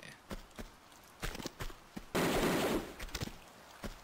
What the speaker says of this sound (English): Did I get automatic pistols or something?